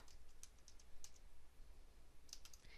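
Keys on a computer keyboard are tapped in quick irregular bursts, faint and close, with a short pause in the middle, no voices.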